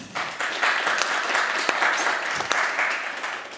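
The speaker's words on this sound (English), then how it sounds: "So a round of applause for you guys." An audience claps together in a sustained round of applause, many hands close and fairly loud, with a few sharper individual claps standing out.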